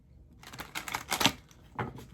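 A deck of tarot cards handled and shuffled at close range, giving a quick series of crisp, papery clicks and riffling bursts that rise in the middle and return once more near the end, with no voice.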